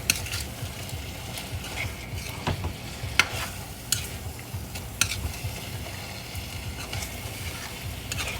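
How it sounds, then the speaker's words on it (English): Indonesian spicy eggs with kaffir lime leaves fry in a pan, a steady sizzle under repeated scraping and clinking strokes of a utensil stirring them. "So we're going to mix it, and then we're going to add in our kaffir lime leaves."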